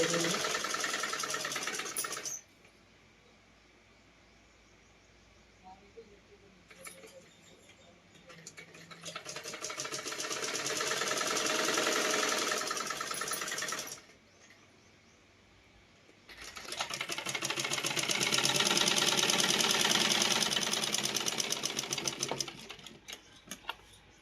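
A sewing machine stitches a pair of pants in three long, loud, rapid whirring runs, separated by quiet pauses with faint background sound.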